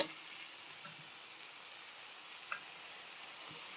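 A spice paste of onion, ginger, garlic and cumin fries gently in a pan for kosha aloo dum, giving a quiet, steady sizzling hiss with a couple of faint ticks.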